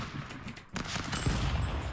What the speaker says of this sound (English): Oh, I need this rifle.